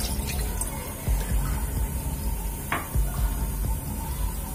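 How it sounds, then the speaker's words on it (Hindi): A cup of water poured into a kadhai on a gas stove, a brief liquid splash with a few drips and light clatter against a loud background hum. "मैंने सबसे पहले एक कप पानी डाल"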